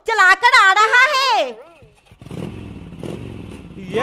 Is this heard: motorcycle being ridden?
yes